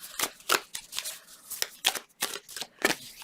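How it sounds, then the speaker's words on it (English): Tarot cards being drawn and handled, about a dozen quick crisp shuffling slides and flicks in an irregular rhythm, close and fairly loud with no talking. "Let's draw 2 more cards."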